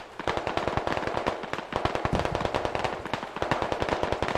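Rapid automatic gunfire in the video game SquadOps, dense bursts of sharp, loud cracks that repeat almost continuously.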